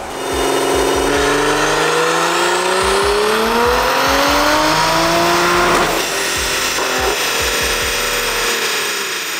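A big-turbo stock B58 engine in a Toyota Supra A90 roars loudly on a dyno, revs sweeping up through a long sustained pull, with tire-spin wail and repeated low rumbling pulses, alone without talk.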